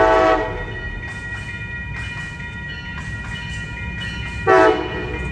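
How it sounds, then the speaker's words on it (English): Amtrak Capitol Corridor train 529, led by locomotive 2102, passes 98th Avenue in Oakland, California, under a loud, near, multi-tone horn that opens with one blast and ends with another, over the steady roll of the cars. "here comes Amtrak 529 Capital Corridor train on its way to San Jose Dearborn Station"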